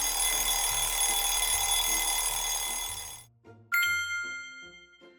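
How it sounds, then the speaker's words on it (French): An alarm clock rings with a steady bright bell for about three seconds, stops briefly, then sounds again in a clear ring that fades away, loud and close with no talking. "Ah, la sonnerie du réveil."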